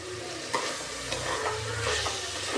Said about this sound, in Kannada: ಪುದೀನ ಎಲ್ಲ ಸ್ವಲ್ಪ ಫ್ರೈ ಆಗಲಿ